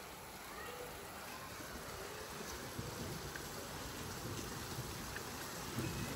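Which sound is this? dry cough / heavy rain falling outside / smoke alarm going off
heavy rain falling outside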